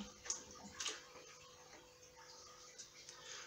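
Aquarium water draining out through a hose during a water change, a faint, steady trickle and gurgle with a few brief splashy bursts near the start.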